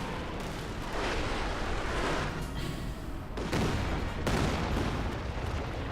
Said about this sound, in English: Panzerwerfer fires another futile barrage.